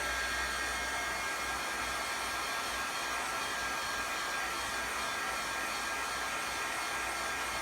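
A heat gun blows steadily on headlight tint film, a constant loud whooshing hiss of hot air with no breaks and no talking.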